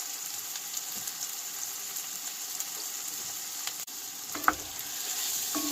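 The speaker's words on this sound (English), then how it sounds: "Just gonna get some olive oil in here. So we'll go ahead and toss our meat in also." Seasoned meat fries in olive oil in a pan while snow camping in a cargo trailer camper, giving a steady, close hiss and sizzle with a faint scrape or clink near the end.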